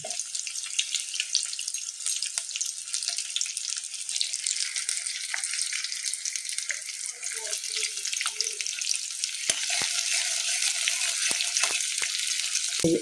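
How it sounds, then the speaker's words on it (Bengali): Bay leaves, garam masala, chopped garlic and onion frying in oil for a cauliflower dish, a continuous bright sizzle with occasional clicks and scrapes of stirring, fairly close and steady throughout. "অল্প লালচে করে ভেজে নিলাম গরম মশলা, তেজপাতা, রসুন কুচি, পেঁয়াজ কুচি"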